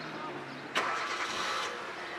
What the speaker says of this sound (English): The first thing, when you crank up the car,